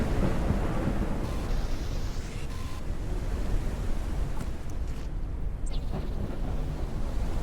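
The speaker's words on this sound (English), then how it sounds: "Storm sounds really good?" Thunderstorm in the survival video game Forever Skies, a dense continuous roar of rain and rumbling thunder, loud and steady throughout with no talking.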